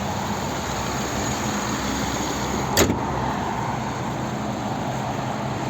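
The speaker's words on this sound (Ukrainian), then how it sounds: "Ось робота двигуна." A 2016 Subaru Outback with a 2.5 petrol and gas engine and automatic gearbox idles steadily, a constant close hum with no talk and one brief click partway through.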